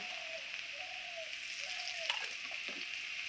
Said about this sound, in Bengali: ওলটা আর এদিকে আলুটা খুব সুন্দর করে ভেজে নিলাম আগে তেলের মধ্যে